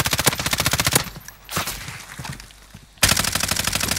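Automatic gunfire rattles in a shooter game, a loud fast string of shots, a pause with single distant reports, then another sustained burst, with no talk.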